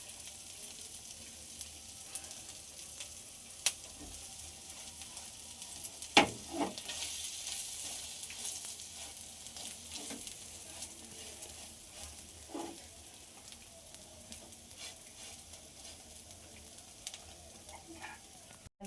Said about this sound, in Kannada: ಒಂಚೂರು ಬಟರ್ ಹಾಕಿ ಮೊದಲು ಬಟರಲ್ಲೇ ಈ ರೀತಿನೂ ಬೇಯಿಸ್ಕೊತಾರೆ ಫಸ್ಟು